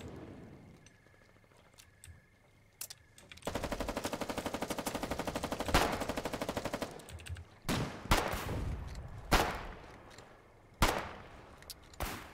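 Gunfire in the war game Foxhole: a sustained rapid machine-gun burst of several seconds, followed by scattered single loud shots and cracks at irregular intervals, fairly close.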